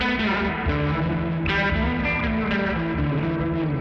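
Guitar runs through a Hologram Electronics Chroma Console with the filter off, phaser and drive still on before reverb, producing steady, distorted, chorused chords played loud and alone.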